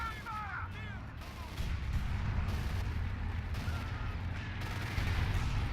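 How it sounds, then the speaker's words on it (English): A 6-pounder anti-tank gun fires on a Panther tank during a Battle for Caen campaign fight at Bretteville in a war strategy game, heard as a dense, continuous din of rumbling gunfire and blasts with a few thin whistles above. "This Panther is taking fire from the 6-pounder gun."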